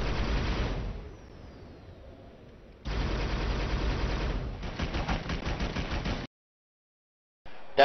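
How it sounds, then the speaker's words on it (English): Machine gun fire in the video game Halo Reach, loud rapid bursts in two stretches separated by a quieter pause, ending in silence and a final short burst, with no speech. "It's the machine gun."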